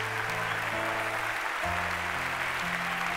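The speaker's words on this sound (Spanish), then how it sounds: "darle un aplauso fuerte para Cristo" Church congregation claps steadily together in a worship service, with a sustained organ or keyboard chord droning underneath throughout.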